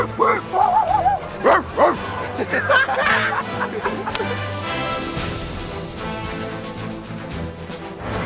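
A crowd of Browns football fans lets out a burst of rowdy, overlapping dog-like barks and yips, voices imitating barking, then settles into a steady roar of cheering.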